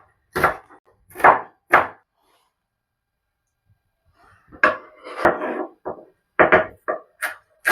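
Green chillies and onion being chopped on a board: a few crisp knife knocks, then a pause, then a quicker run of uneven chops and taps, close and clear with no talk.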